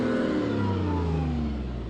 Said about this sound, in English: let's go up here where we don't hear the engine. Boy, it's kind of loud, isn't it?